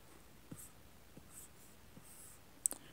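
An Apple Pencil sketches on an iPad Pro screen in Procreate, giving a few faint, soft taps and light strokes spaced about once per second in a quiet room, with a sharper click near the end.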